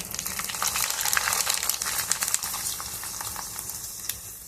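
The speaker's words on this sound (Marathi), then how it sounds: "तेल छान गरम झालेलं आहे आता आपण एक एक करून पळी पापडी तळूया" Rice papads fry in hot oil one at a time, giving a dense, crackling sizzle with scattered sharp pops and bubbling, close and steady throughout, with no voices.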